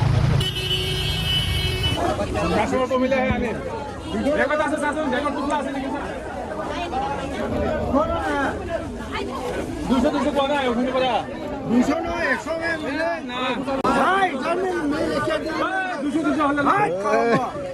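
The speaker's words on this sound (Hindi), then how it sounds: "ट्रैफिक यार, बहुत ट्रैफिक।" Busy road traffic at a weekly market, with vehicle engines and occasional horn toots beneath constant crowd chatter and nearby voices talking throughout.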